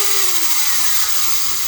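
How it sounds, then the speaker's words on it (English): A Dremel rotary tool on a foot pedal whines steadily at high speed while carving lighter cases, its pitch sliding slightly downward as it runs, close and continuous with no talking. "I have my Dremel set up on a foot pedal, like Jordy's talks about doing"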